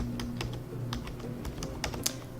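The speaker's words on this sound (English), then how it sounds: "next I'll type in a date that will match the constraint" A date is typed on a computer keyboard in a steady run of close, distinct key taps over a low background hum, with no talking.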